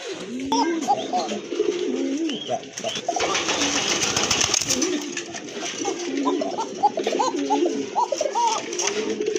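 Domestic pigeons kept for sale coo repeatedly, several birds overlapping in low rolling calls throughout, with a brief burst of broadband noise partway through.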